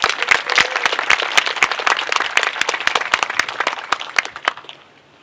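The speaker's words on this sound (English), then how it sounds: "Give them another round of applause, please." An audience applauds after a performance at a live-streamed meeting, dense clapping that is steady and fairly close, then thins and fades out toward the end.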